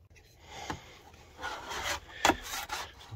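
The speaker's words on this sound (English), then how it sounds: "razor blade here to clear off some of the old stuff that they used to seal this." A razor blade scrapes old sealant off plywood in a frosty attic, giving soft, close scratching strokes in short irregular bursts, fairly quiet, with no talking.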